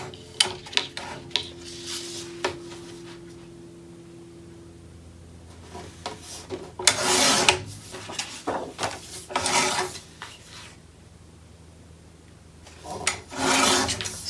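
Trimming cream cardstock for a Graphic 45 mini album with a paper trimmer: scattered clicks and knocks, then a few longer sliding cuts of the blade, close and clear with no talking.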